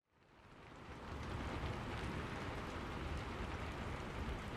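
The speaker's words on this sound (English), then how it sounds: "The rain pounding against the streets and the wind whipping through the trees." Steady, heavy rain with a broad roaring wash of storm noise, building quickly and then holding constant, with gusty wind texture and no voices.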